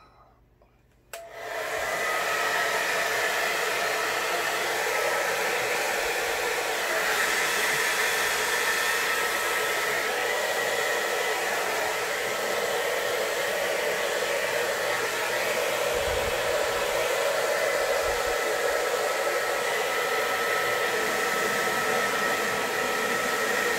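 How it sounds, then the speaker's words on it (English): A hair dryer switches on and blows with a steady, loud whooshing hum that continues without a break, drying acrylic pour paint. "Now I get the hair dryer and go after it."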